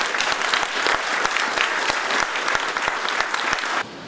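An audience applauds at a ceremony naming the E. George Morse Building at a water and sewerage anniversary event in the Bahamas, with dense, loud, continuous clapping that stops abruptly just before the end.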